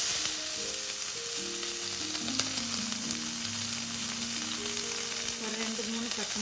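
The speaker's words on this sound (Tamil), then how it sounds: "இந்த வெங்காயம் இதை நல்லா ஃப்ரை பண்ணிக்கோங்க" Onion, mustard seeds, cumin, urad dal and green chillies sizzle steadily in hot oil, a constant close crackling fry with faint stirring and no talk.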